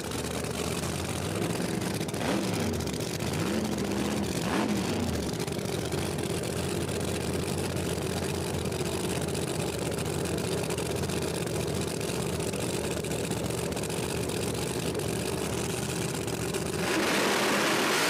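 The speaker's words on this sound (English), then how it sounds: "Looks like we're going to have a drag race right here." Drag racing cars at a no-prep street outlaws event in Hebron, Ohio, their engines roaring loud and steady with a rising rev early on, a continuous heavy engine wash throughout.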